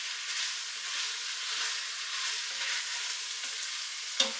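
Tomato paste and ground beef sizzle and fry on the bottom of an Instant Pot, a steady hiss throughout with a few soft stirring scrapes and a brief sharp clink near the end.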